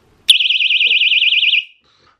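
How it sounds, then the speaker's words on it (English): A personal rape alarm shrieks with a loud, piercing warbling tone for about a second and a half, starting abruptly and cutting off cleanly, heard alone without talk. "I've got my rape alarm. So loud noise coming, but this is the noise it makes."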